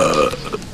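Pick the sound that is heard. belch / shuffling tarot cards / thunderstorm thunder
belch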